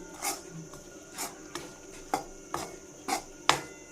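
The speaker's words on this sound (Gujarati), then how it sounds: "સારી રીતે મિક્સ કરી લેશું" A spoon scrapes and knocks in a pan while bajra flour shira is stirred, giving about seven sharp, separate clinks and scrapes spread evenly over a few seconds, close by and fairly quiet, with no talking.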